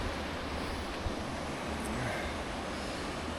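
Water of the Kennebec River flows in a steady, broad rushing wash, close and constant, mixed with wind buffeting the microphone and no talking.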